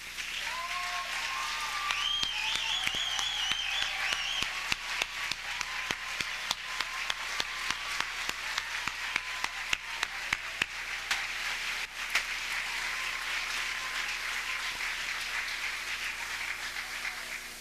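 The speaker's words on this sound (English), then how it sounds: "Would the parents and other loved ones please rise and accept our applause?" An audience at an NYU Gallatin graduation ceremony applauds the parents and loved ones, a long sustained round of clapping with distinct sharp claps over a dense wash, and a few faint whoops early on.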